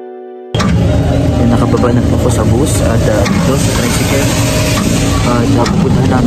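A motorized tricycle ride in Atimonan at six in the evening gives a loud, steady engine drone with road rumble. It starts after a brief quieter lead-in and runs continuously throughout, with a voice occasionally under the noise.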